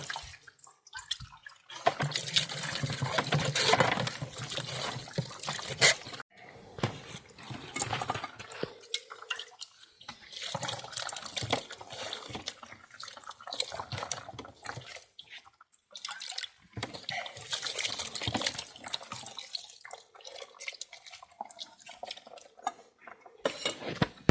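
Water sloshing and dripping as grated potato starch pulp is rinsed by hand in a container, a continuous close splashing and trickling with irregular bursts and brief lulls, no talk.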